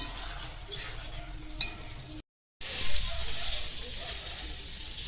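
Food frying and being stirred in a pan during a picnic cook-up, a loud close steady sizzle with scraping stir strokes, broken by a brief dropout before the hiss returns louder.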